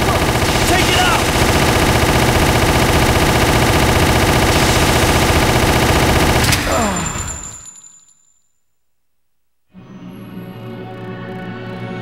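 Rapid automatic gunfire from a Resident Evil Umbrella Chronicles boss fight, loud and dense for about six seconds with voices over it, then cutting out into a brief silence before a lower rumbling resumes.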